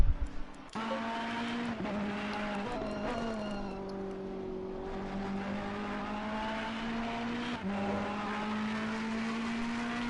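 Audi and Ferrari race cars howling around Zolder circuit, a loud sustained high-pitched engine note rising and falling through gear changes with brief shifts, close and continuous with no talking.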